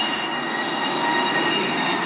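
A train arriving at a station in the Roblox game Stepford County Railway, with loud rolling rail noise and high squealing wheels, steady and close, with no talk.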